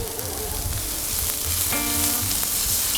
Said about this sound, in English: our onions are going right on the Slow and Sear